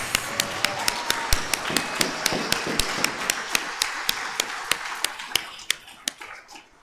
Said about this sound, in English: let's give one more round of applause for the graduates.